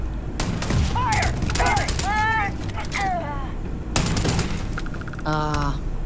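Gunfire in Starfield: rapid bursts of shots repeat through the scene, loud and close, with voices calling out between and over the volleys.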